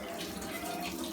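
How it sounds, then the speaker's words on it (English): A kitchen tap runs steadily while water is collected to dilute corn flour for a vegetable curry sauce, a quiet, even rush of flowing water with no talking. "I get some water here."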